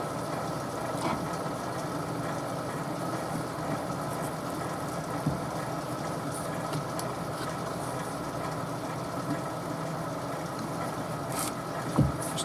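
A steady drone of a running wood lathe while a tool scrapes the outside of a turned piece, a continuous mid-level hum with faint scratchy texture and a couple of small knocks, no talking.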